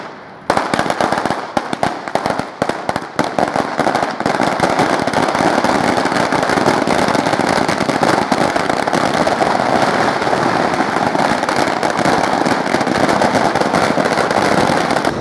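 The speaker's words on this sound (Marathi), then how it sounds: "जामनेर नगरपरिषदेसमोर फटाक्यांची आतिषबाजी करत जल्लोष साजरा केलाय" Firecrackers and fireworks go off in a dense, continuous crackling barrage at a street celebration in front of a municipal council office in Jamner, Maharashtra. The popping stays loud and unbroken throughout, with no talk.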